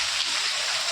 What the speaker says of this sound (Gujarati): બહુ જ ફાસ્ટ વરસાદ પડી રહ્યો છે.